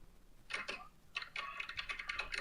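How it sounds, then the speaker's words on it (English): Someone typing on a computer keyboard, picked up faintly through a live microphone, two quick bursts of clattering keystrokes with a short pause between them. "somebody making noise on keyboard, man"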